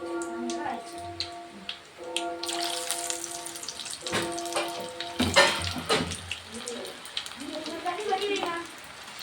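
Chicken pieces drop into hot masala for chicken chilli, cooked outdoors in pouring rain, and sizzle and crackle steadily under a background of music-like tones and a voice talking.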